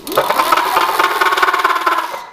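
Senada Saber Plus electric bike under throttle, its rear fender rattling: a steady motor whine with a fast, buzzy mechanical rattle running continuously for about two seconds, close and fairly loud, then cutting off.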